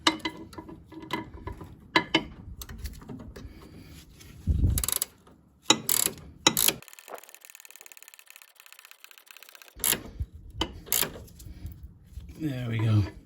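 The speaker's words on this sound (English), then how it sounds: "Then we get our ratchet spanner on there first. And then our socket in afterwards." A ratchet spanner with a socket tightens a drop link nut on a Ford Ka, giving close, sharp mechanical clicks and bursts of ratcheting with quiet pauses between them.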